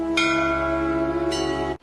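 A metal temple bell is struck twice, each hit a bright clang followed by a sustained humming ring, the second strike about a second after the first, loud and close with no voices.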